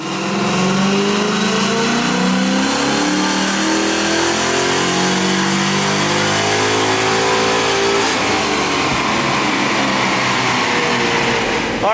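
A Gen 3 Coyote Mustang engine on nitrous revs hard and steadily under full load, its pitch climbing continuously as it pulls, loud and close throughout before easing off at the end.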